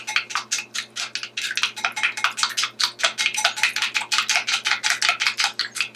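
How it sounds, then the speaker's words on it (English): Homemade tomato facial toner being stirred briskly in a small container: rapid, rhythmic clinking and scraping strokes, close and steady for the whole stretch, no talking. "I'm just going to mix and mix well"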